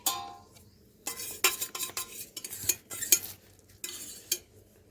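A utensil stirs homemade neem soap mixture in a bowl, giving irregular scraping and clinking strokes in short bursts with quiet gaps, close and clear, with no talk.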